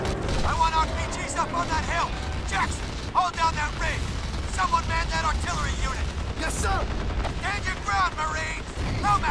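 Rockets fire and burst in the shooter Crysis, with heavy booms and mechanical clatter rolling throughout while someone talks over the action.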